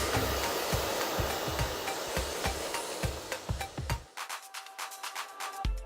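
A hair dryer blows steadily and close while hair is dried through with a brush after mousse, the airflow cutting off near the end to leave brush scratches and faint handling sounds.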